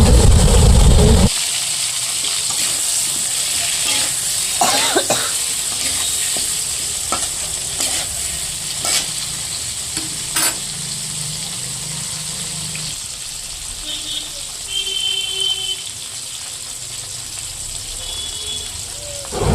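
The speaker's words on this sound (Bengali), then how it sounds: "এর মধ্যে 2টো টমেটো দিয়ে দিল কেটে, দিয়ে আবার একটু নাড়াচাড়া করছে।" Chopped tomatoes stirred in a frying pan for Bengali fish curry (maachh er jhal), a steady sizzle with scraping spoon strokes and occasional clinks running throughout.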